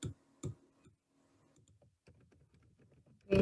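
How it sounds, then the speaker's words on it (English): Quiet typing on a computer keyboard, a scattered run of soft key clicks after a couple of louder knocks, close by and faint, with no talk. "Faster sometimes to just type it."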